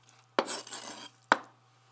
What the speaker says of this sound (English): Using a heavy knife, carefully chop up the bones, including the reserved turkey neck.